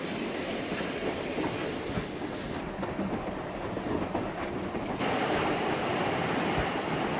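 An Isle of Man Steam Railway train on the Douglas to Port Erin line runs steadily, a soft continuous rumble of wheels on track heard from on board, without voices.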